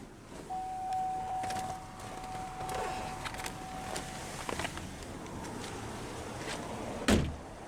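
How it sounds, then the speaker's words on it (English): Driver's power window of a 2012 GMC Acadia Denali rolling down, a faint motor whine lasting a few seconds, followed by a sharp knock as it stops, heard quietly without talk. "Now we'll go ahead and roll down the driver's window."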